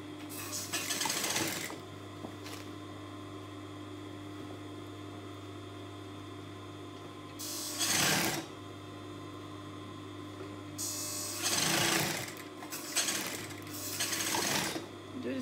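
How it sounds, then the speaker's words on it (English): A sewing machine stitches the neck section of a sweetheart A-line dress in several short bursts of about a second each, set against a steady mains hum with quiet gaps between runs. "You sew it only on the neck section."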